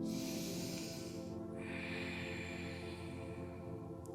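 A slow, deep inhalation during a yoga practice on a mat, a faint, soft airy hiss that shifts partway through and continues steadily to the end, with no talking.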